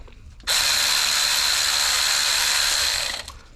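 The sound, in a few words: electric ratchet removing alternator stud on Lexus IS300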